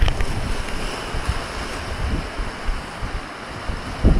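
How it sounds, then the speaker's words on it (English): Storm wind roars on an island beach at night while waves crash hard against the shore. The noise is loud and constant, with gusts buffeting the microphone and dull thumps of surf breaking close by. "Waves are crashing hard on the beach."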